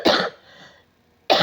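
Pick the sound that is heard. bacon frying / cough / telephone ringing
cough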